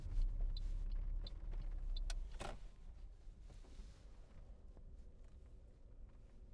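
A car pulls slowly into a parking bay between other parked cars, its low engine hum easing off, with a few light clicks and faint cabin rustles, no speech.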